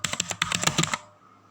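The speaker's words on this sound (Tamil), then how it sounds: "ஸோ கைஸ் இது வந்து ஸ்பீடாக டைப் பண்ணுறேன்." Rapid typing on a Zebronics Nitro 1 mechanical keyboard, a close, loud burst of quick clacking keystrokes lasting about a second before falling quiet.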